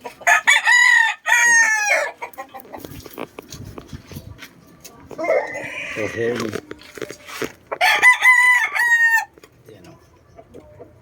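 Quality backyard chickens at a neighbour's yard, with a rooster crowing loudly and close twice, the calls separated by clucking and someone speaking briefly.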